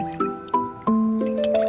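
A spoon stirs powdered drink mix into a glass of water, clinking against the glass about five times at irregular intervals, each tap leaving a short bright ringing tone.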